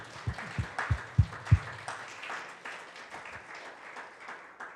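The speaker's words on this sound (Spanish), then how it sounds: "Dale un aplauso al Señor Jesucristo." A church congregation applauds during a sermon, starting with a handful of loud, evenly spaced thumping claps and then settling into softer, scattered clapping that fades.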